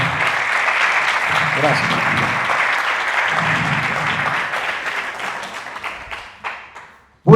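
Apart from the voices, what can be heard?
audience applause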